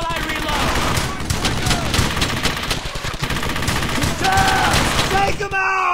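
Rapid bursts of rifle and machine-gun fire, including an MG 42, in a World War II battle from Brothers In Arms: Hell's Highway, loud and continuous, with shouted voices mixed into the firefight.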